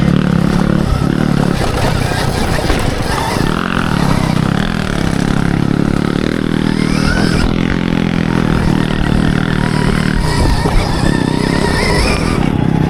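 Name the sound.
Stark Varg electric motocross bike riding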